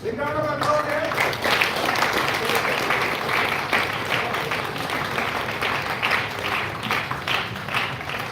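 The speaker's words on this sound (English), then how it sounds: "Big round of applause, yes." Audience applause at a live Astha School of Management ceremony, where names of honorees are read out; dense, steady clapping from a full crowd runs the whole stretch, with a voice briefly audible at the start.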